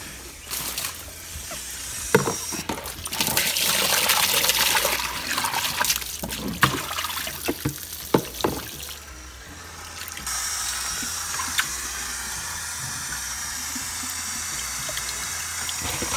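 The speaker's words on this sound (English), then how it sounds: "Let me wash this container up so I can put him back in." Running tap water splashes and trickles into a sink while a container is rinsed, steady and close with clattering handling knocks, the flow settling into a smooth stream toward the end.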